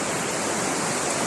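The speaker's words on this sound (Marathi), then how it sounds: "सुंदर असा समुद्र, सुंदर अशा लाटा आणि मनमोहक करणारं दृश्य" Sea waves wash steadily onto Kunkeshwar beach in Devgad, a continuous, fairly loud broadband surf roar with no break and no voices.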